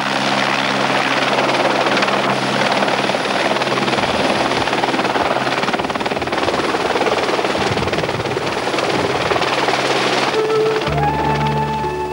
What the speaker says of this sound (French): On appelle l'hélico.